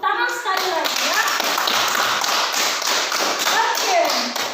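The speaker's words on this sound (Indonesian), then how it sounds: "Tepuk tangan sekali lagi ya." A group of children clap their hands in a classroom, a dense, steady burst of close claps lasting several seconds with a few voices mixed in.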